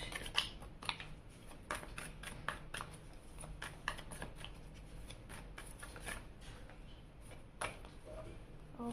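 Tarot cards are shuffled and drawn by hand, giving soft, quick papery riffles and flicks in irregular bursts, close and quiet, with occasional speech in between.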